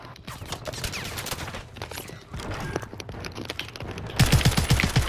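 Rapid gunfire in Call of Duty Warzone on Rebirth Island, with dense bursts of sharp shots throughout and a louder, closer volley near the end.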